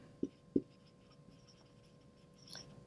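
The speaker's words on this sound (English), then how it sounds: "let me write that down here" A pen writes notes during a physiology lesson, heard as faint, quiet scratching with two sharp taps near the start and no talking.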